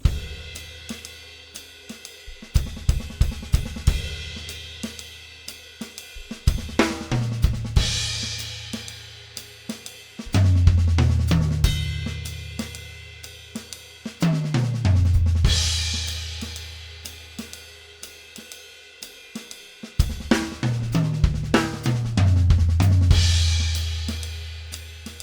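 A drum kit plays quarter-note triplets beginning on beat 2 of the bar, with repeated phrases of crisp snare and tom hits over kick and cymbal swells, loud and alone, each phrase separated by short gaps.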